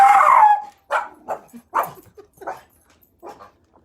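A dog barks close by at a neighbor's dog outside, one drawn-out bark followed by a series of shorter, sharper barks spaced irregularly.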